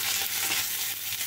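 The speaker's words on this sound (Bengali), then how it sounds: "এখানে অল্প পরিমাণ হলুদ দিলাম, হলুদ দিয়ে নেড়ে দেবো একটু।" Turmeric being stirred into food frying in a pan, heard as a brief, constant, close sizzle with soft stirring scrapes and no talk.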